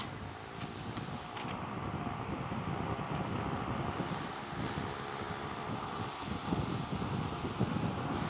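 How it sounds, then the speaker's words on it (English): A BEESTAR 18-inch high velocity industrial wall-mount fan running on medium, blowing straight at the microphone as a steady, close, broadband whoosh with faint buffeting that holds level throughout. "you may hear the wind blowing"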